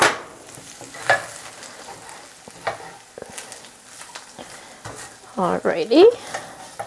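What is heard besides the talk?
panko crumbs stirred and toasting in a pan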